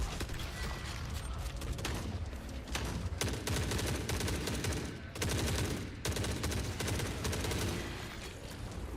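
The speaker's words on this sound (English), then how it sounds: "Why is there a fucking turret in here?" A turret in The Forever Winter fires long, rapid automatic bursts, loud and continuous, broken by brief pauses before resuming with mechanical rattling.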